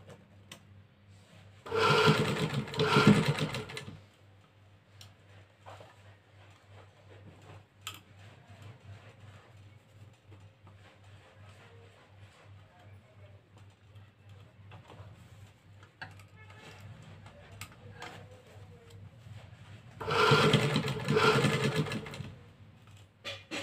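A sewing machine stitching a designer blouse, with two short bursts of rapid stitching near the start and end, separated by a quiet stretch of faint handling clicks and rubbing.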